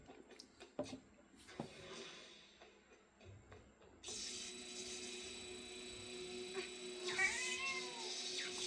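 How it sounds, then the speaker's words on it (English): A pet cat meows at close range, its wavering cries standing out over a steady background hum, with a few knocks and bumps scattered through the quiet before it. "And excuse my cat, that was my cat right there."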